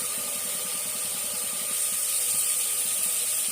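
Onions sauté in a pan for biryani, making a continuous, close hissing sizzle that stays level and grows slightly louder toward the end.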